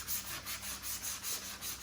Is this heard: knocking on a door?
no